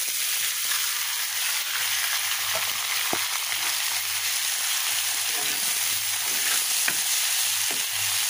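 Boiled red amaranth greens fry with onion and garlic in a pan, giving a close, continuous sizzle with occasional sharp clicks from stirring and no voices.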